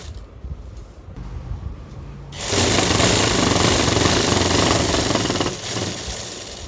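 A sewing machine stitches the side seam of a palazzo. After about two seconds of quiet room sound, a loud, steady mechanical rattle starts. It runs evenly for about three seconds and then eases slightly, with no talking.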